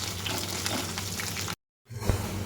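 Chopped onions fry in a hot pan with a steady, close crackling sizzle that drops out briefly before resuming, followed by a single soft thump.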